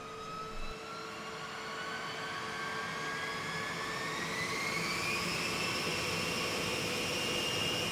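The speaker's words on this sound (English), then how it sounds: "the pilots fire up each of the B-52's 8 engines" The eight jet engines of a B-52 bomber spool up together, a steady roar with rising whining tones that climb gradually and build in loudness, heard alone and at moderate distance.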